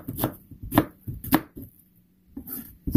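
Leftover radish being chopped into small pieces for kimchi: a knife strikes a cutting board in sharp, close, uneven chops with brief pauses between bursts.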